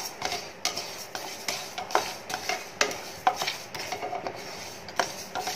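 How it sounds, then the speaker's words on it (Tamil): Moong dal dry roasting in a pressure cooker for wheat rava pongal, heard as soft scraping and stirring with a faint sizzle and occasional metal clinks from the spoon against the pot. "இந்த பாசிப்பயிறை வந்து வெறும்னே நம்ம குக்கரில், எந்த அடுப்பில் எந்த குக்கரில் நம்ம பொங்கல் வைக்க போகிறோமோ அதில் போட்டு வெறும்னே நம்ம வறுத்து எடுத்துக்கலாம்"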